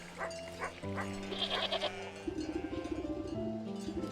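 Ram bleating in the Wytchwood video game, a few drawn-out sheep-like bleats layered over steady game music, moderately loud and close with no talking.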